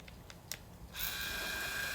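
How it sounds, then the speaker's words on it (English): A quick hiss of a spray bottle onto a paper towel bursts on and holds steady for about a second, following a few faint clicks of the trigger. "So I'm just going to spray it onto this paper towel."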